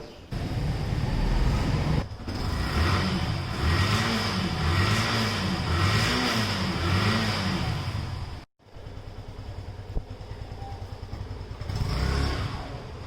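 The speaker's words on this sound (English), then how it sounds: "So let's cold start the bike." A motorbike engine cold starts and settles into a loud, close, steady idle with throttle blips, then is cut briefly before idling again, no talking.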